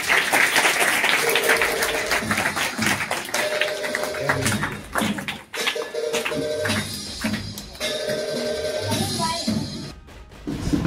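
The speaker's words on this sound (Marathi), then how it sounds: "सगळ्यांनी टाळ्या वाजवून पाहुण्यांचे स्वागत करूया पटकन" Audience applause greets guests at a charity event with a free health camp and Diwali snack and clothes distribution; sustained clapping fills the room steadily for about ten seconds, with no talking over it.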